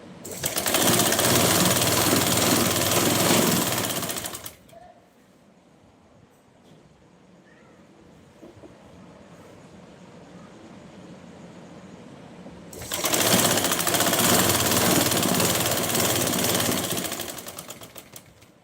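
An electric sewing machine stitches a Patiala salwar in two long, loud, fast whirring bursts, separated by a quieter pause of faint handling noise and room sound.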